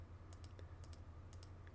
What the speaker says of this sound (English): I'm just holding down Control and left clicking to create this